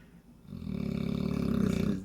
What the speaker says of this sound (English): This is the human snoring dog.